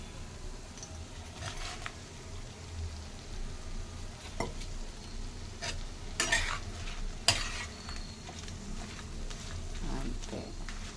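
Brinjal pieces frying in a pan with ground spice paste and salt, a low steady sizzle punctuated by occasional spatula scrapes and clatters, close and moderately quiet.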